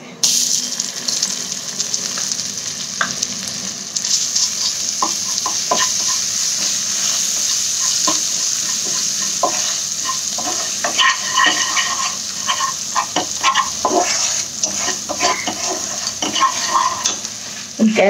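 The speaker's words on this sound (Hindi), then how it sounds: "मसाला अच्छे से भून चुका है।" Spiced masala with crushed chili and grated ginger frying in a pan for a baby-potato dry sabzi, a continuous close sizzle broken by repeated spoon scrapes and taps as it is stirred.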